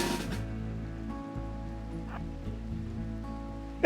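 Steady rain falls in the video game RimWorld, a constant soft patter with a low droning hum beneath it, and no voices.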